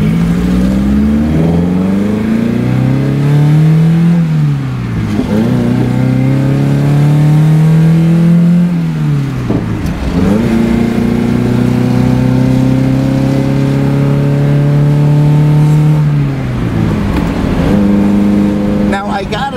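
A Chevrolet Cosworth Vega engine revs hard and high while driving, pitch climbing through several gears with brief dips at each shift, loud and close from inside the car.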